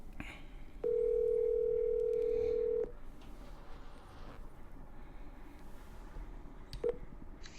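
A telephone dial tone sounds after a call is hung up, one steady loud tone holding for about two seconds, followed by quiet room noise and a short beep.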